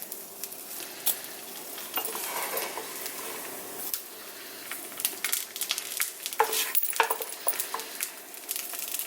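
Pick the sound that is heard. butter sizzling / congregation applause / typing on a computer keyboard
butter sizzling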